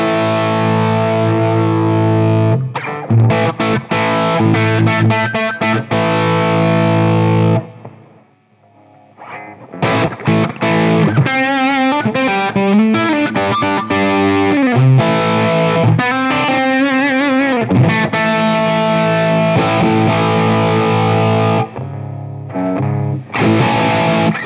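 Electric guitar played through an Xotic overdrive pedal with the tone control boosted for added high presence and gain, producing loud, sustained distorted chords and riffs with one short dip before the playing resumes.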